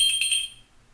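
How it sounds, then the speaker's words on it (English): A small bell hanging on a door rings briefly, a bright clear tinkle of a few quick strikes that fades within half a second. "little bell"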